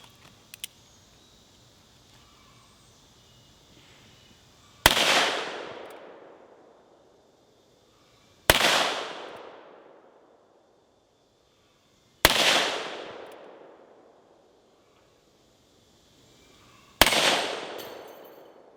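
A Ruger Blackhawk revolver chambered in .30 carbine fires four loud, sharp shots spaced several seconds apart outdoors, each crack followed by a ringing decay, with quiet in between.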